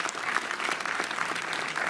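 An audience claps in sustained, dense applause at the closing ceremony of a film festival in Montreuil. The sound stays loud and even throughout, with no voices.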